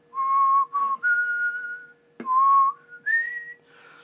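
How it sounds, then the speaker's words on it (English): A person whistles Taps, a slow bugle-call melody, clear and close, with sustained notes and short gaps between phrases. "Join me in whistling taps for my dead soldier."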